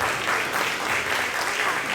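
Sustained, loud applause from an audience at an Onam celebration event in a school hall, continuous dense clapping throughout.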